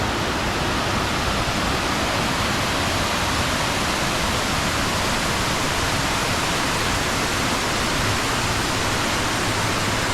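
A waterfall in a forest roars with a dense, unbroken rush of falling water, loud and close, with no other sounds over it.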